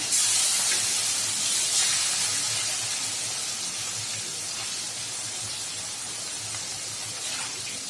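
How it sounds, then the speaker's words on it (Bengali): Fish pieces lightly frying in hot oil in a pan, for a Bengali mustard-steamed fish dish, giving a steady close sizzle and hiss that fades slightly over time with no talk. "বেশি ভাজবো না শুধু একটু একটু জমিট করে নেব খুব বেশি ভাজবো না"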